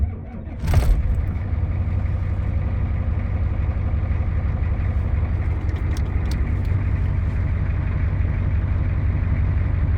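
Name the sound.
Ford 7.3 IDI diesel engine idling in the cold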